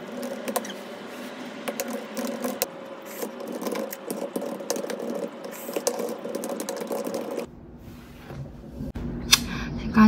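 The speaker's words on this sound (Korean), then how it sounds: "키보드로 이렇게 자막 칠 수 있어요" Typing on a Logitech computer keyboard, with quick irregular key clicks close by that run steadily, then stop before a few final taps, against a faint background hum and no talk.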